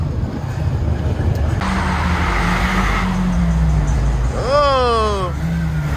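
A bass-boosted truck engine revving loud and close, its pitch climbing and falling, while people talk excitedly over it.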